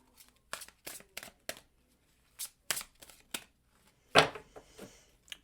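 Quiet tarot card shuffling in a series of short riffling bursts, close to the microphone, with pauses between, ending in a slightly louder snap.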